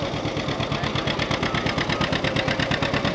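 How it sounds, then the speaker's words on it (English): A restored old tractor engine runs steadily at a low idle, its loud, close, rhythmic chugging pulsing evenly with no voices over it. "Restored old tractor."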